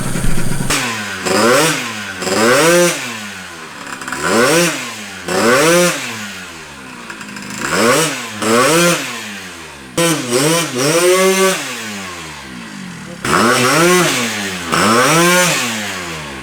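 A loud, buzzy 50cc two-stroke Honda Dio Elite scooter engine revs up and down repeatedly in rising and falling bursts, close by, with brief pauses between throttle blips.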